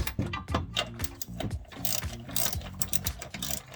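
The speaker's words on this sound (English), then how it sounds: "Now we're going to start tightening." Ratcheting wrench clicking in quick repeated bursts while tightening bolts on BMR super low profile chassis jacking rails under a 2015-2022 Ford Mustang, close and steady with short pauses between strokes.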